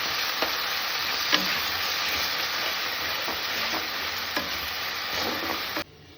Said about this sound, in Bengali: পেঁয়াজ কাটা, এটাকে আমি ভালোভাবে কষিয়ে নেব।